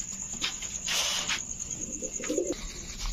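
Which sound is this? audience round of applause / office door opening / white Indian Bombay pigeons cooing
white Indian Bombay pigeons cooing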